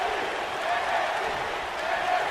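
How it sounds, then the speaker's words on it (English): Video game arena crowd in WWE 2K19, an NXT show set in Uniondale, roars with a steady, dense wash of cheering and chanting that holds at an even level throughout with no lull. "The crowd now comes alive with the NXT chants, the all too familiar sound here in Uniondale."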